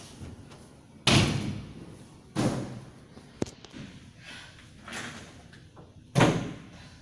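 A door bangs and thuds several times, with three loud slams spread apart and softer knocks between them, fairly close, with no speech.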